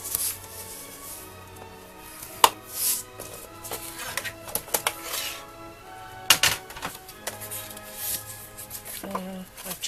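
Paper being scored with a tool for a box lid, a 4 3/4 inch square marked at 4 1/8 and rotated between passes: soft, quick scraping strokes at close range, with a faint tonal background underneath.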